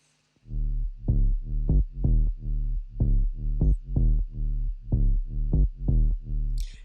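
A deep, sustained synth bass line plays alone in a steady repeating pattern of pulsing notes, loud and close with no other instruments.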